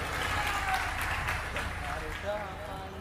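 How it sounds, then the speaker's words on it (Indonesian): Applause from an audience at an Indonesian religious study gathering, a steady wash of clapping lasting a few seconds under a crowd murmur. "Tepuk tangan, oke."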